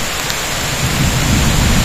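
A heavy downpour drums continuously on surfaces near a riverside tree cabin, loud and close, with a deep rolling thunder rumble swelling beneath the rain.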